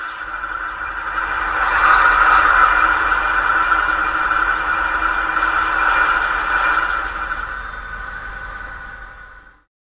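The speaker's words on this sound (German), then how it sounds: "F1 Motorsound Start Motor 1. F3 Motorsound Start Motor 2." A PIKO N scale BR 221 diesel locomotive model starts its engine sound, which swells within two seconds into a steady droning hum, holds, then cuts off sharply near the end.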